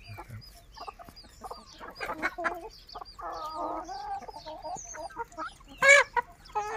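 Black hen clucking with her chicks on a farm, soft repeated clucks and peeping calls at close range, with a louder burst of clucking near the end.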